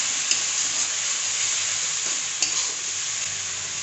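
Spices sizzle steadily in hot oil as turmeric and salt are stirred in for a coriander tilapia dish, a constant bright frying hiss with occasional soft scrapes of the spoon.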